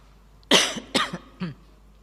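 Three sharp coughs in quick succession, close and loud, the last one shorter and softer, with quiet background between them.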